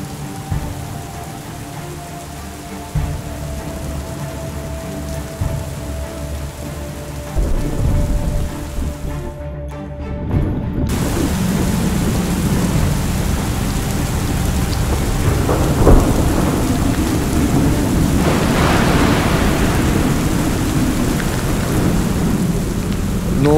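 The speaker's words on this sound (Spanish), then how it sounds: "La verdad, la visibilidad ya es muy poca, sigue granizando bastante." Heavy rain and hail pound down during a thunderstorm while riding a motorcycle, a dense, loud, continuous roar of drops and hailstones with low rumbling, briefly cutting out before returning even stronger.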